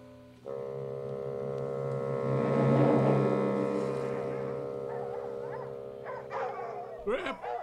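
Farmer Maggot's dogs barking and howling outdoors on a farm, a sustained loud canine cry swelling then fading over several seconds, followed by a few sharper yips and barks near the end.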